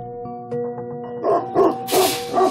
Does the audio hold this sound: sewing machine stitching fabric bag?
no